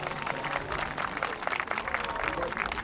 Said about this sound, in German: sie verdienen alle unseren Applaus